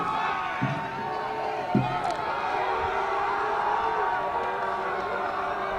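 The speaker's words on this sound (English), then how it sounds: "And a vocal crowd on that far touchline." Vocal spectators cheer along the far touchline at a boys Division III lacrosse final between University City and Point Loma, a steady distant crowd roar with scattered whoops and a couple of sharp thuds.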